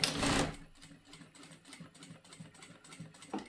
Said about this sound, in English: it's going to do 4 stitches quickly forward and then 2 back, and then it's just going to start sewing forward